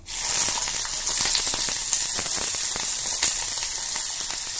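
Potatoes, skins left on, drop into hot mustard oil already holding burnt dried chilli and nigella seeds, bursting into a loud, steady, close-up sizzle that crackles on without pause.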